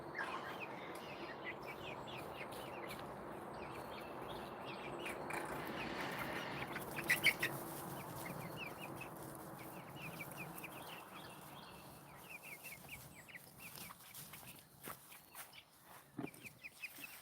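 A hen clucks softly while her baby chicks peep in thin, rapid bursts, all faint and close in a quiet farm setting.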